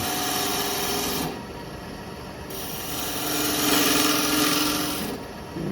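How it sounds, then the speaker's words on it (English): A 1/4 inch bowl gouge making light bevel-rubbing cuts on wood turning on a lathe, with a steady scraping whir in longer stretches and brief lulls between passes. "Using my 1/4 inch bowl gouge, and I'm just making little bevel rubbing cuts all the way down to shape my heart."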